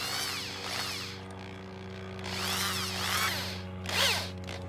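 A power drill drives a screw while solar step lights are installed, whining in short bursts that rise and fall in pitch, fairly quiet and close, with no talk.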